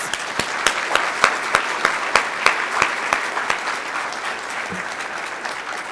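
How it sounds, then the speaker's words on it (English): A large convention audience claps in a steady round of applause at a political district convention, dense and sustained with sharp individual claps standing out, no talking over it. "let's just give them another round of applause"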